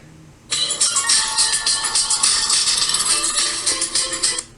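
A phone ringing with a loud, bright electronic ringtone that starts abruptly and repeats steadily in a sustained pattern for about four seconds before cutting off.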